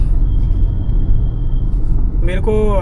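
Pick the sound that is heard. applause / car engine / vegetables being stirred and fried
car engine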